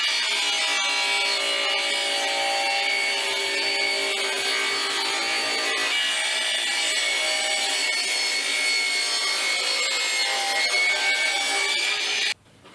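A saw rips through wooden boards for an ant farm, making two cuts one inch wide. A continuous, loud, high-pitched whine of the blade in the wood runs for about twelve seconds, briefly dips once partway, and stops abruptly at the end.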